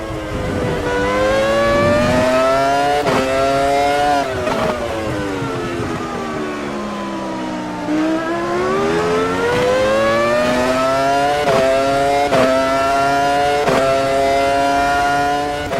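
A 2001 Ferrari Formula 1 car with a V10 engine screams through repeated high revs and gear shifts in the AMS2 racing game, its loud engine pitch climbing, dipping and climbing again throughout with no talking.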